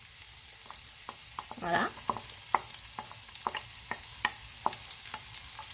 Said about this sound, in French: je vais rajouter les oignons. Donc on va caraméliser nos oignons.